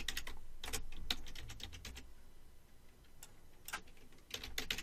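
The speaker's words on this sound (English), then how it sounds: "And I'm going to change the password." Rapid, irregular keystrokes on a computer keyboard as a password is typed, a steady run of close, crisp clicks and taps with no talking.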